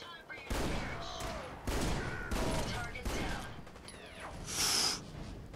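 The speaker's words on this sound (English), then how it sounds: "but boy, did we get into a firefight." Gunfire rattles through a firefight in the video game Fallout 4, with repeated loud bursts of shots and sharp electronic effects, all close and dense over several seconds.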